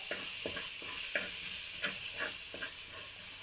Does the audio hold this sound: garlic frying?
yes